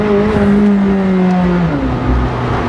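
A McLaren 765LT's engine runs loud and close, picked up from inside by a dashcam as a steady rumbling drone with a smooth shift in pitch partway through.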